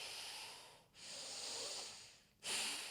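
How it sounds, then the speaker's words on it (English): Slow, steady breathing through the nose during a power yoga class, a long airy exhale, a brief pause, then another strong breath, close and clear with no talk. "breathing in and out through the nose."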